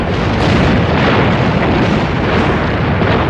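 Heavy naval gunfire rolls on during a night battle between American and Japanese warships off Guadalcanal, a dense, continuous rumble of booming shots merging into one loud roar with no clear gaps.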